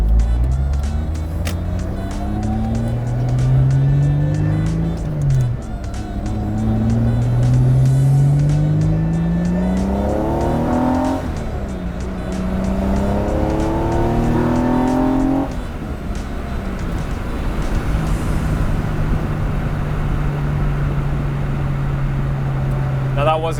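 A 230whp naturally aspirated Mazda Miata revs hard through the gears near full throttle, engine pitch rising in repeated sweeps with sharp drops at each shift, loud and close from inside the car, then settling into a steady drone, with a faint power-steering whine beneath.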